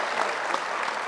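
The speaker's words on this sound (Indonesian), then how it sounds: "Kasih tepuk tangan dong, Pak Hasan Nasbi." Brief burst of steady studio audience applause on an Indonesian talk show, dense clapping at an even level with no voices over it.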